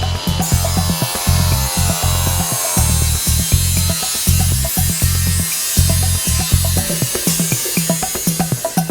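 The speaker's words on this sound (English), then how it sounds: "A conventional cut-off grinder might be used as well." Cut-off grinder slicing through Effidur underfloor heating comb panels, a loud steady whine broken by repeated short cutting bursts and brief pauses, close and continuous with no talk.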